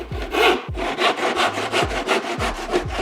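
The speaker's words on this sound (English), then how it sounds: "So I'm gonna go straight down and cut this miter right through." A hand saw cuts straight down through a wooden cornice miter in steady back-and-forth strokes, each pass a loud, raspy rub with a rhythmic low thump roughly every half second, close and alone.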